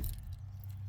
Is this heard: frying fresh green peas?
no